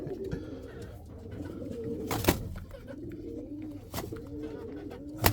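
Pigeon chicks and parent birds at a nest, with soft repeated cooing and murmuring calls close by, punctuated by a few sharp rustles and bumps.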